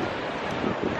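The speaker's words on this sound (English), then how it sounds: "Actually, it's kind of windy." Steady wind buffeting a microphone outdoors, a continuous broadband rush with gusts swelling toward the end.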